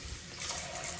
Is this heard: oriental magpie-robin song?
no